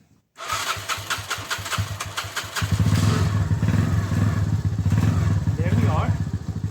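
A Mash Fifty motorcycle engine cranks with a rapid rattling starter whir, then catches and settles into a loud, close, chugging idle.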